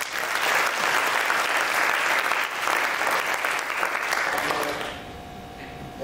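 Hall audience at an MBBS white coat ceremony clapping for the timekeeper, a loud sustained round of applause that fades out near the end.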